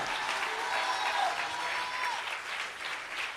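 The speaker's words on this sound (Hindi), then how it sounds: "हाथ उठाकर ताली बजाओ" Congregation in a church clapping hands together in steady, dense applause that fills the space throughout, loud and continuous with no voices standing out.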